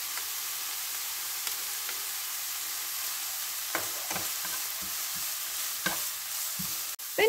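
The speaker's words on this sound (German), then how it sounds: "Sobald auch die Möhren so ein wenig glasig sind, gebe ich jetzt den Knoblauch dazu." Pressed garlic frying with softened carrots in a pan gives a low, steady sizzle, broken by short scraping stirs that grow more frequent toward the end, close by with no talking.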